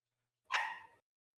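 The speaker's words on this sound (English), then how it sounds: "I got like a dog just going crazy in the back." One sharp dog bark sounds out alone against silence, brief and fairly close, as background noise during a Mobile Legends match broadcast.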